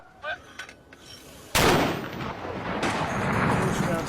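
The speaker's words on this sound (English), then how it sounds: "the mortar team are tasked to engage the enemy" A Royal Marine mortar team fires from the base at Kajaki: a sudden loud blast with a long rumbling decay and a second boom following, after a few faint clicks and knocks.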